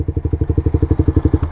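A motorcycle engine idles loudly nearby in fast, even thumping pulses, then cuts out as it is switched off.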